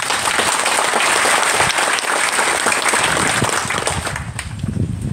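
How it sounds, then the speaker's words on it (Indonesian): Steady, loud applause from an audience at a university new-student campus orientation, honouring the foundation chairman, sustained clapping filling the whole moment with no speech over it. "Berikan aplaus untuk beliau."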